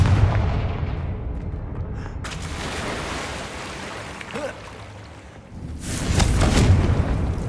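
A Confringo fire spell from the Hogwarts Legacy game bursts as a loud booming blast over game ambience, with rumbling low-end tails and a second surge of noise near the end.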